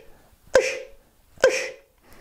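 A voice imitates a Roland TR-808 snare by beatboxing: two sharp, close, throaty bursts with a short tonal tail, about a second apart, with silence between.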